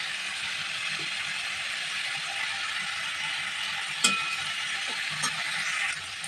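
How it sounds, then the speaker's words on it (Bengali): Ghatkol curry stirred and mixed in a pan, a soft continuous sizzle with faint scraping and a couple of brief utensil knocks near the end. "খুব ভালো করে কিন্তু মিশিয়ে নিচ্ছি"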